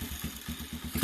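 A 2016 DongFang SX-R DF250RTC motorcycle engine runs close by with a fast, even pulsing chug and a slight rise in loudness at the end.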